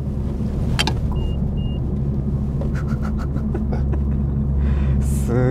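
A modified Honda Civic FK7 hatchback heard from inside the cabin as it takes a sharp curve, a steady low engine and road rumble with a few light clicks and a brief rising whine near the end.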